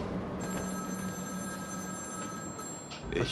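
A telephone bell rings continuously over a steady background hiss, fairly faint and without voices, in the video game Batman: Arkham City.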